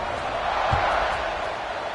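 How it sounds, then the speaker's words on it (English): Crowd at a football stadium murmuring and buzzing steadily after a touchdown, a dense sustained roar with no single standout shout, heard at a distance. "this crowd is buzzing after that last score"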